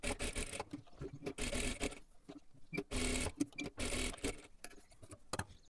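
Short stop-start runs of a sewing machine stitching a katori blouse, uneven mechanical buzzing bursts separated by quiet pauses and light fabric handling.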